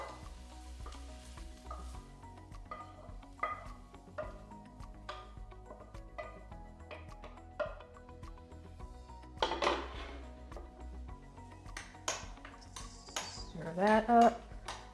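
Turkey meatloaf mixture with added veggies stirred in a bowl, giving repeated sticky, wet squelches and scrapes close by, with a few clinks of utensil on the bowl near the end and a person speaking briefly.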